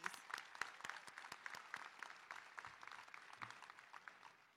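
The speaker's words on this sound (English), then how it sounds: "let's a round of applause of gratitude for them" Sustained applause from a crowd gathered to honour volunteers at a student event, dense overlapping claps at steady loudness throughout, with faint murmurs underneath.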